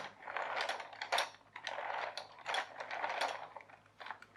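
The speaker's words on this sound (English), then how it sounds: "Turn that to turn the motor." Gears of a Quercetti Isotta Discovery toy car motor being turned by hand, giving bursts of small plastic clicking and ratcheting close up, in uneven rhythmic runs.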